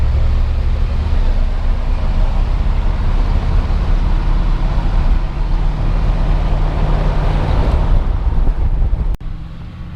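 A 1960 Ford F100 pickup with a Denwerks 292 V8 and four-speed, driving, makes a loud continuous low engine and road drone mixed with wind buffeting, cutting off abruptly near the end.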